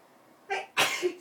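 A single sneeze indoors during an exercise session, a short inhaled build-up followed by a sharp loud burst, close to the microphone.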